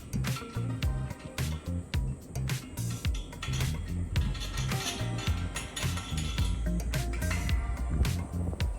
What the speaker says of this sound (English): we secure the locking mechanism and tighten the movable locking parts